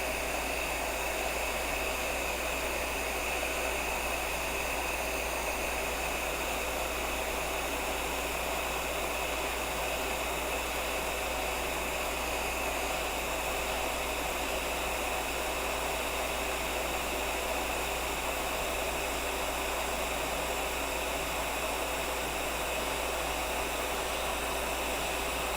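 Heat gun on its hot setting blows steadily across a graphite orthotic, a constant close broadband rush of air holding unchanged for the whole stretch with no talk.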